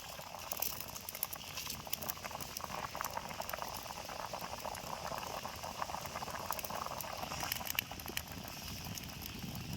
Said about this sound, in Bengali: এই যে দেখুন কি সুন্দর ফুটে গেছে, টকবক টকবক টকবক করছে।